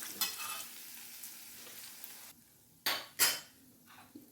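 Curry leaves and chillies fry in a pan for an Andhra-style ripe red chilli chutney, with a close, bright sizzle broken by a pause and then sharp bursts of sizzling as a utensil stirs and scrapes.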